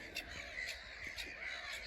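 Harsh crow-like caws of wild birds ring out several times at a steady pace over a constant outdoor hiss, moderately distant, across meadows at Lake Drużno.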